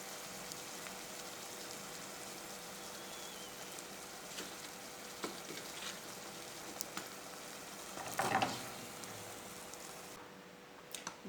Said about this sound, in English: I will be frying the second batch